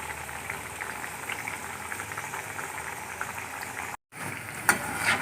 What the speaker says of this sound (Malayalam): ഈ കളർ വന്നു കഴിഞ്ഞാൽ നമുക്ക് വെളിച്ചെണ്ണയിൽ നിന്ന് വറുത്ത് കോരാം.